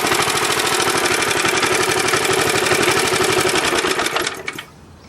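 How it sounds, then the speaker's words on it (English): A Toro Power Handle small engine, just back from a clutch repair, runs with a fast, even buzzing putter at close range, then cuts off abruptly near the end and leaves quiet. "That is the clutch on the Toro power handle."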